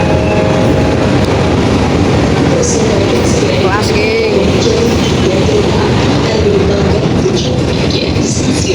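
Train noise around a CC 206 1375 diesel locomotive at Cipinang depot in Jakarta, a steady loud rumble throughout with a brief squealing tone midway and a voice speaking briefly.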